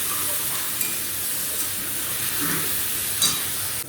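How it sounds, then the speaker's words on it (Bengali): Pieces of jackfruit frying in a pan, a continuous low sizzle with occasional faint stirring clinks, close and steady. "দেখি একটু ভেজে নিই এইভাবে"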